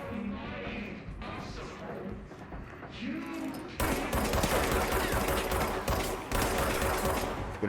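Rapid gunfire from the video game Control, dense bursts of shots that grow louder and fill the second half, mixed with in-game noise and a background voice.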